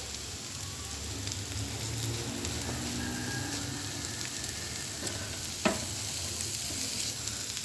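Eggs for egg bhurji cook in a pan, giving a steady close sizzle with soft scraping stirs and one sharp clink of a utensil near the end, no voices.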